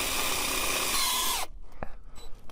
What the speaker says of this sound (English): this damn drill is having a hard time